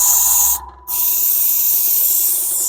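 An aerosol can sprays a clear flat coat onto an HO scale model locomotive, a close, loud, steady hiss that briefly stops, then resumes and continues.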